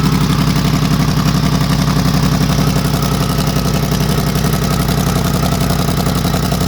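A Range Rover engine running steadily with an exhaust manifold leak, a continuous close rhythmic ticking clatter over a low idle drone.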